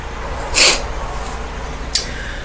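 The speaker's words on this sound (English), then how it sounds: "Keep going through these sneezing fits." A person sneezes once, sharp and close, with a second faint sneeze-like burst shortly after against quiet room noise.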